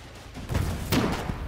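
Gunfire in the Foxhole war game, a few muffled reports and a sharper crack in quick succession, moderately loud over a low background rumble.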